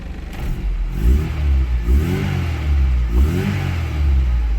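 Austin Princess engine with an SU HIF6 carburettor, settling to a steady idle near 750 RPM after the choke is pushed off; a loud, close, even rumble with slight rhythmic swells and no voices.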